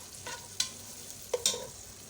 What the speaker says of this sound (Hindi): नट्स का फ्राई करना बहुत ही ज़रूरी है